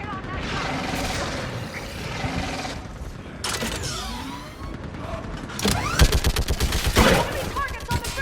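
Gunfire from a mounted gun in the video game Mass Effect 3, rapid bursts of heavy shots amid a loud, dense battle soundscape, growing louder and more continuous toward the end.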